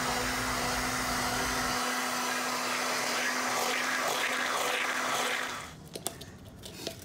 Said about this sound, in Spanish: Vamos a licuar por 3 minutos hasta que ya se haga bien la masita.